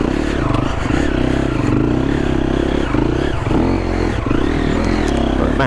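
A Triumph TF250E electric dirt bike whines and strains up a steep, slippery bush hill climb, its motor tone rising and falling close to the rider, with clatter and scraping from the terrain.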